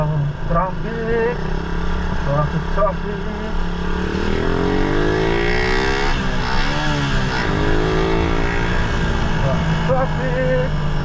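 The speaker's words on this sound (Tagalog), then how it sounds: "Oh no, traffic." Road traffic on a Philippine provincial road between Bolinao and Alaminos: steady loud engine and road noise with vehicles passing close, one rising and falling engine pitch sweeping by mid-clip.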